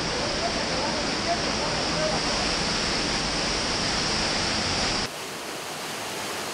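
A steady, loud roar of falling water from a waterfall near a cave, continuous broadband rushing that drops abruptly in level near the end.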